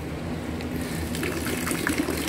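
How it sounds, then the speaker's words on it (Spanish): Excess water drains out of the bottom of a hydroponic Dutch bucket growing tomatoes, a steady close gushing and trickling rush with no pauses. "el agua que se vino de más empiece a escurrir por la parte de abajo"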